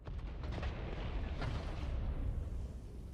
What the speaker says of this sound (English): every time it sets down, it sounds like a fucking explosion